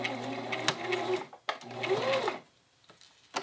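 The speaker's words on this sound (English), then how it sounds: "Make sure that your zigzag stitch is not too wide so that it is catching the elastic as you're sewing it." A home sewing machine runs a zigzag stitch over elastic on a children's garment, whirring steadily in two bursts of about a second each, with a pause and a few soft clicks between and after.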